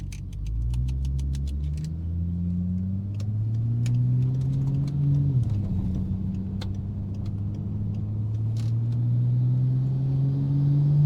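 A car engine idles with a low rumble, then rises in pitch under a light throttle nudge before dropping back and climbing again, close and steady, with scattered small clicks and rattles over it.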